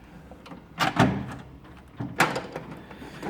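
A toolbox drawer holding nut drivers slides open with two quick rattling pulls, a metallic scrape and clatter, then a pause and another short sliding rattle.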